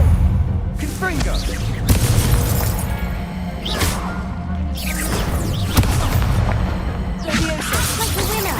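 Confringo fire spells cast repeatedly in a wizarding video game, loud bursting explosive whooshes arriving in rough waves amid crackling debris, with a voice calling out over them.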